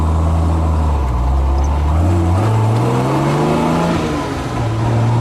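A 1968 Jaguar E-Type 4.2 convertible drives along, its engine note steady and loud, then rising in pitch as it accelerates with a smooth, continuous drone heard from close by.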